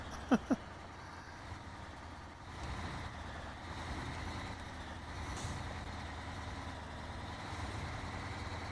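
A modded big truck's engine in SnowRunner drones in a low, steady rumble, with two short sharp beeps at the start and the engine note swelling slightly partway through.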